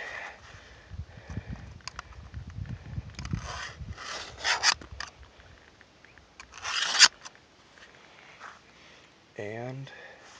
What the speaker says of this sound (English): we want to take this tool and you want to clean out all that gunk right like that